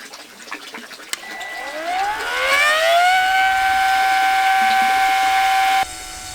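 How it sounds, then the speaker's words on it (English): A motorized water pump starts up with a rising whine, then settles into a loud, steady mechanical hum close by that stops suddenly. "I'm going to fire this up and see if it's going to pump the water up the hill."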